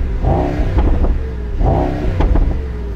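A 2024 Mercedes-AMG GT 63 Coupe engine revs up hard twice in quick succession while accelerating out of a bend, each surge rising in pitch before dropping back, close and loud.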